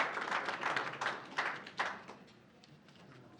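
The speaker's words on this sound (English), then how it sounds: "stand up so we can give you an applause for being here" Lecture audience applauding a guest asked to stand, a broad burst of clapping from the crowd in the first two seconds, then thinning out to a few scattered claps.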